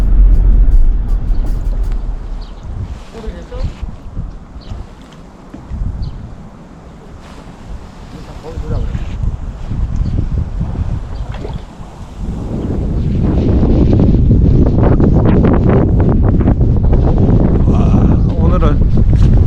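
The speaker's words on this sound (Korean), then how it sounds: "그래도 바람이 엄청 세게 불어요" Strong wind blows across the Sorae wetland, roaring and buffeting the microphone in loud gusts that ease briefly then build into a sustained heavy rush, with someone speaking over it.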